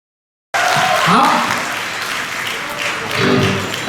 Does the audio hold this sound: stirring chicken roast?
no